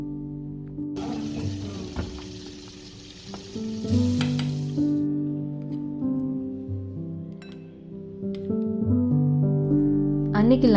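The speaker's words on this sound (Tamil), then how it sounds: "இதை நம்ம அடுப்பில் ஒரு 20 மினிட்ஸ்க்கு க்ளோஸ் பண்ணிவிட்டு ஒரு ரொம்ப லோ ஃப்ளேமில் வச்சு குக் பண்ணி எடுத்துக்கணும்" Crab masala sizzling and frying steadily over a very low flame, a continuous soft crackle with occasional stirring, voices talking over it and some music-like tones.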